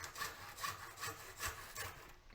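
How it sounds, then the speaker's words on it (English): Hand saw cutting wood while making bar clamps, about six even back-and-forth strokes in a steady rhythm, close and quiet with no talking. "Couple of strokes with the saw"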